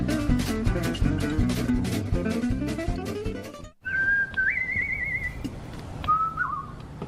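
A person whistles like a bird, opening with a busy melodic phrase over a musical backing, then after a brief pause switches to long warbling, trilling notes that imitate birdsong.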